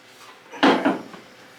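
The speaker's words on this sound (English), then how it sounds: "We're gonna put the passenger door on." A short knock and clatter, two quick thuds close by, as a car's passenger door is set and bumped into place on its hinges.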